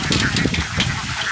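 A flock of about a hundred ducks being released to bathe in a river, quacking and honking in dense, overlapping calls close by, with no speech.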